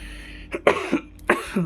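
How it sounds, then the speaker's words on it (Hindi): A few harsh, throaty coughs close by, two main bursts separated by a short pause, with no speech around them. "माफ़ करना, थोड़ी मौसम चेंज की वजह से थोड़ी खांसी और सर्दी हुई है।"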